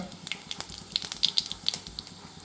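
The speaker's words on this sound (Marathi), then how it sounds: "मोहरी आपली आता तडतड वाजत आहे." Mustard seeds crackle in hot oil while a potato chutney is being made. Sharp, faint pops snap out irregularly in a quick scattered series over a soft background hiss, close by and with no voices.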